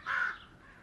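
A single bird caw, crow-like and harsh, sounds outdoors at fair volume for a fraction of a second, then fades into quiet open air.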